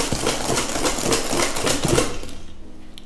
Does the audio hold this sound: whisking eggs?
yes